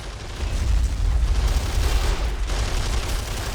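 Anti-tank gun emplacement firing in the World War II strategy game Men of War: Assault Squad 2, with a steady rumbling barrage of booms and battle noise throughout, dense low-end blasts blending together without clear gaps.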